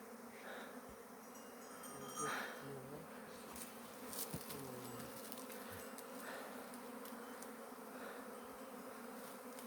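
Honey bees buzzing around a swarming hive at an apiary, a steady faint drone of many insects with individual bees zipping close past now and then.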